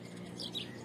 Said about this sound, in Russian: Смотришь, тут воробьев что-то тьма тьмущая.